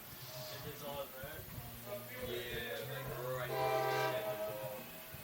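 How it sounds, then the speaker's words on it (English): A train passing near a baseball field during a college game, a low rumble with a long sustained horn-like tone rising toward the end, heard at moderate distance beneath crowd and announcer talk. "Might have heard the train go by."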